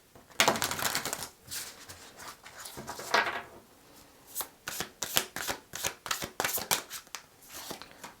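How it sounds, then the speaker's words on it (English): Tarot cards are shuffled by hand, a couple of long riffling sweeps followed by a quick series of sharp slapping shuffles, close and clear. "Let's do a bit of shuffle shuffle."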